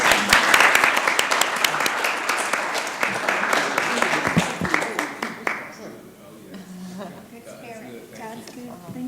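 Applause fills a city council meeting chamber in Columbus, Georgia, loud and busy for about five seconds before dying away, after which voices talk in the room.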